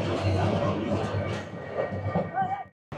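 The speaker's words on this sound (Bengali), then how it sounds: "আমাদের ট্রেন পর্যটন এক্সপ্রেস 816 অলরেডি কিন্তু কক্সবাজার স্টেশনের ঠিক প্ল্যাটফর্মের দিকেই ঢুকতেছে" Parjatak Express 816 rolls toward the platform at Cox's Bazar station, a steady close rumble of wheels and carriage noise with a brief squealing tone near the end before a short drop to near silence.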